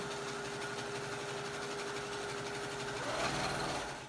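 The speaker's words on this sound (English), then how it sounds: "I'm sewing full throttle." A sewing machine runs at full speed, stitching binding onto a Thanksgiving placemat, a steady fast whirring hum that rises slightly in pitch near the end before winding down.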